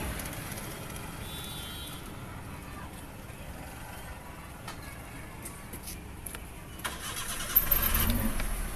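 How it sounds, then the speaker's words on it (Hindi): A Maruti Suzuki WagonR with a company-fitted CNG kit, showing CNG and engine check lights and misfiring, is started directly on CNG. After a quiet stretch with a few clicks, the engine catches near the end and runs close by. "सीएनजी पे चेक करते हैं स्टार्ट के डायरेक्ट।"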